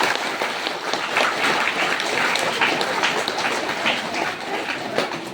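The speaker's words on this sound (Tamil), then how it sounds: "கைத்தட்டலாம் நீங்க" A crowd gathered at a temple claps steadily, a thick and continuous patter of hands that stays fairly close and even throughout with no talking over it.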